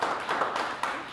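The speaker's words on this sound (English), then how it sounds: "How about a round of applause for the 4 panelists and their expertise." Audience applause for four panelists at the close of an insurance claims panel discussion, a faint, steady patter of clapping from a small crowd lasting about a second, with no voices over it.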